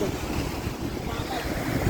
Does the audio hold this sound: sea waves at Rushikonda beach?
yes